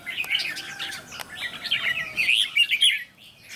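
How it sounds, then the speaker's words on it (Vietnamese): Decoy songbirds, one of them freshly moulted, chirp and sing in quick bright bursts of high notes. The phrases are close and fairly loud, come in two clusters with a short pause between them, and carry no speech. "Nó ít hót, nó chưa dám hót nhiều."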